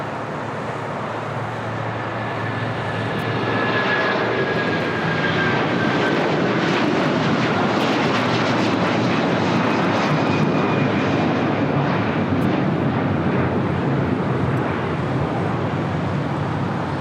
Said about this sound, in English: Flight 6811 taking off to Guadalajara.